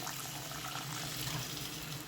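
A continuous rush of water being poured into a pan, steady and fairly close, with no voices.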